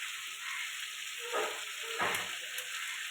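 Cauliflower curry frying in a pan with cumin powder, potatoes, carrots, peas and prawns, a steady close sizzle with a couple of stirring scrapes partway through.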